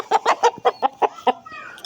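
A fighting rooster with one eye blackened from a fight gives a rapid, close run of about eight sharp clucks at a steady rhythm, ending in a softer trailing call.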